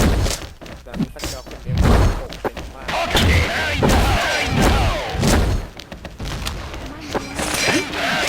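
Heavy thuds and booming grenade blasts in the video game XSHOT, several bursts in quick succession, with talking over the noise throughout.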